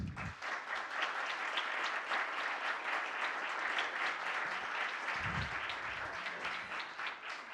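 A conference audience applauds a Supreme Court justice, dense steady clapping that carries on at an even level for several seconds with no voices over it.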